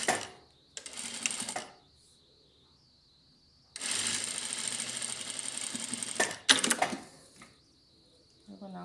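A sewing machine stitches the side seams of a fabric face mask in two bursts, a short one and then a long steady whir, with a clattering stop between quiet gaps; a steady high hum runs underneath.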